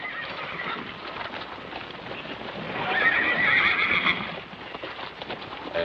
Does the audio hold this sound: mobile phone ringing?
no